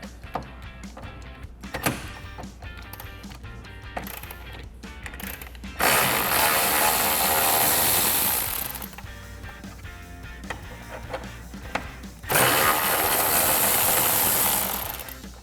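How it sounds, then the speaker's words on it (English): Grille bolts come out of a 2021–2022 Ford F-150 with an 8 mm socket on a power tool, which whirs in two sustained bursts of about three seconds each, separated by softer clicks and handling noises, close up with no talking. "So I'll take an 8 millimeter socket and get these out."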